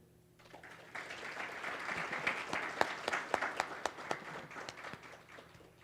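Audience at a PTK pinning ceremony breaking into applause after a quiet opening, a mix of many hands with several sharp individual claps standing out, then tapering off near the end.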